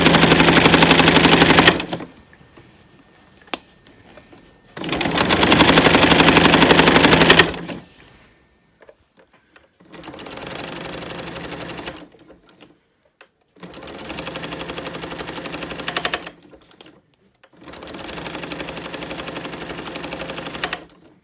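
A sewing machine stitches stretchy fabric on a kitchen table. It runs in steady, rapid bursts of several seconds each, loud and close, with brief quiet pauses between runs.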